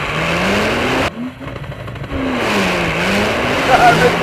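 Porsche 911 Turbo S doing a PDK launch control standing start, a loud engine rev held before a sharp break, then the car pulling away with rising and shifting engine pitch and tire noise, close and continuous.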